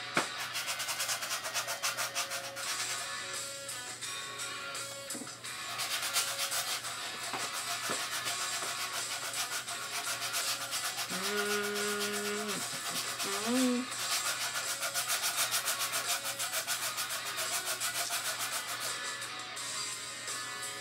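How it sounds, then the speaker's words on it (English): Fresh sandpaper rubbing steadily against a collectible to take off a printed logo, a continuous close scratchy scraping that runs the whole time with a low background hum and a few faint tonal sounds partway through. "So I'm using a completely fresh piece of sandpaper."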